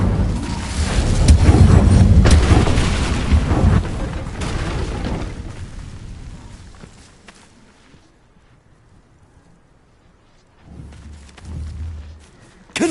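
The Incendio fire spell is cast in Hogwarts Legacy with a long, roaring, explosive burst that slowly fades away. A second, softer blast follows a few seconds later.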